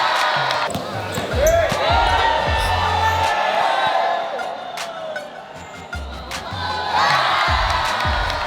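Excited spectators cheer and shout at a basketball game, a loud, steady crowd roar with surges of whoops, along with ball bounces and squeaks under a talking voice.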